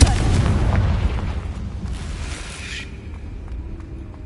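Booming blast of the Confringo explosive spell in Hogwarts Legacy, a loud burst that rumbles and slowly fades over a few seconds, with a faint tone lingering at the end.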